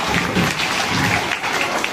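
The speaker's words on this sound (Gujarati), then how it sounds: "તાળી પાડજો હીરબા માટે." Applause for Hirba at a school, a dense, continuous crowd of hands clapping nearby in a room, steady and loud from start to finish.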